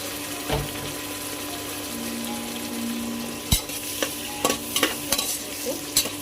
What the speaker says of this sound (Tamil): கொஞ்சம் ப்ரௌ லைட்டாக ப்ரௌனாக இருக்கிற வரைக்கும் நல்லா வதக்குங்க